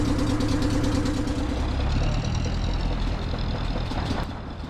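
A small motorboat's engine drones steadily on the Sundarbans waterways between Godkhali and Gosaba, a close, continuous low rumble that eases slightly toward the end.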